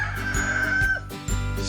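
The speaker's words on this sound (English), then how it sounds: "Rooster." A rooster crows close and clear, a drawn-out cock-a-doodle-doo set among farm-animal sounds, with a few short clucks around it.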